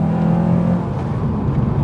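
A manual car's engine drones loudly through quick gear shifts, its steady hum dipping briefly and settling at a new pitch, heard close with no talking.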